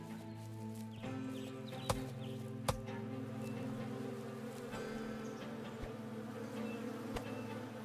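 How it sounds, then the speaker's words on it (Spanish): Bees buzz in the survival video game Above Snakes, a steady close insect drone layered over low ambient tones, broken by a few sharp clicks and thuds. "Cuidado que las abejas nos atacarán pronto."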